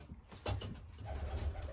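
Breeding racing pigeons kept in loft cages coo in low, throaty rolls, close by, with a couple of fuller swells.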